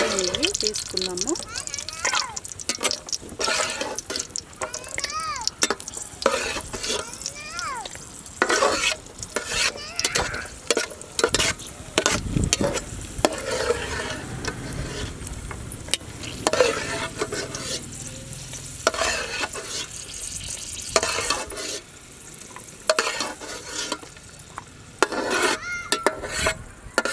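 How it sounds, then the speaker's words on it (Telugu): Vermicelli frying in dalda ghee for semiya payasam, with a close, continuous sizzle broken by frequent scraping stirs and metallic clinks of a spoon against the pan throughout. "అదే డాల్డాలో ఇవి దోరగా వేయించుకోవాలి."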